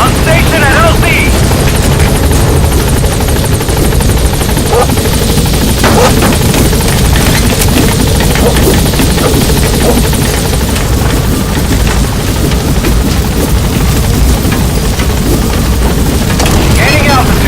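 The B-Quad helicopter from Metal Gear Solid 5 touching down, a loud, constant rotor roar and engine wash filling the whole stretch, with radio voices underneath.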